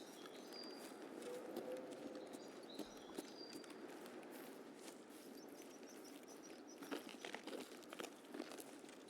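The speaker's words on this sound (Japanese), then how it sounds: "自分の足音か" A player's own character walks in Escape from Tarkov PvE mode, quiet repeated footsteps crunching softly over a faint ambient background with occasional thin chirps.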